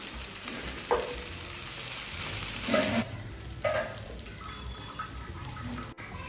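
Paneer cubes roasting in a hot pan, with a continuous broadband sizzle and a few brief stirring or flipping scrapes over it, moderately close and alone.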